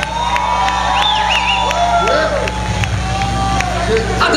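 A crowd at a glam rock concert cheers and whoops after a band's set, with scattered shouts and whistles rising over a busy, noisy hall.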